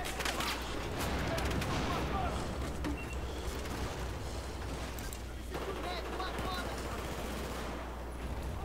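Rapid bursts of Battlefield 4 multiplayer gunfire crackle and pop almost nonstop, with players talking excitedly in Portuguese over the shooting.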